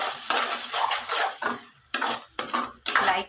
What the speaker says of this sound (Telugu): ఇది మొత్తం హైలో పెట్టేసి ఒకసారి తిప్పేద్దాం.